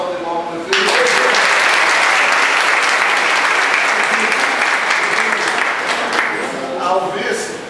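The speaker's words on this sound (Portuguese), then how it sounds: "uma salva de palmas ao prefeito" A crowd bursts into loud, sustained applause for the mayor at a meeting with sanitation workers, with a voice speaking at the start and again as the clapping tapers off.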